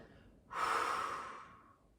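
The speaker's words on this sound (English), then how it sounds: "So inhale, open mouth, exhale" Deep exhale through an open mouth as a clearing breath in a yoga session, a single breathy whoosh that starts abruptly and fades out over about a second, close and alone.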